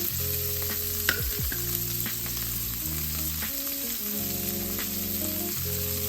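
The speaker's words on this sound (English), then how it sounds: "We're gonna stir fry this." Cabbage and celery stir-fried in oil in a pan make a steady, close sizzle that runs the whole time under a layer of tonal background music, with a brief clatter of stirring near the start.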